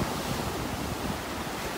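Rushing surf and wind noise washing over the microphone, a steady broadband roar of waves with no voices.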